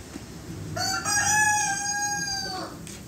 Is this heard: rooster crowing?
yes